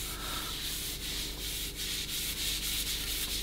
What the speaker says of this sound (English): Now you want to get your rag and just wipe off any excess.